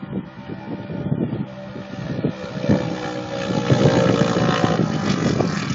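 A boat engine on a Salt2Salt run at Wilmington runs steadily and loud throughout, its drone swelling slightly toward the end, with wind rushing across the microphone.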